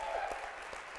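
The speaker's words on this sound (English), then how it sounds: "I thought it'd be worthwhile to maybe do a quick thank you and round of applause to Ming, Vitalik, George, the Ethereum Found" An audience at a panel on digital infrastructure gives a quick round of applause, a faint, even patter of clapping heard from a distance.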